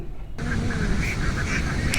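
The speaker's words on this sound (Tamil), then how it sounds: "பாருங்கள் வாத்து கூட்டம்" A flock of ducks at a lakeside market, heard as a dense, loud chorus of overlapping quacks and honks that begins abruptly and fills the whole short stretch.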